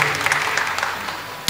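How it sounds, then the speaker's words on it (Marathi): Audience applause at a devotional kirtan, a continuous wash of many hands clapping together for about a second and a half, fairly steady and moderately loud. "टाळी वाजवा जोरदार."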